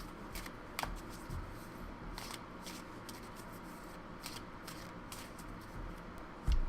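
Hands shuffle a tarot card deck up close, with repeated soft papery swishes and light taps in a quiet room and no talking.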